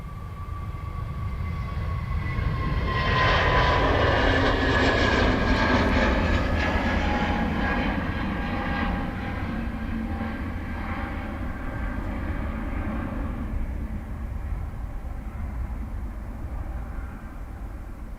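A jet airliner departs Dublin Airport, its engine roar building loud and broad, then holding steady with a whining tone as it climbs away, no voices over it.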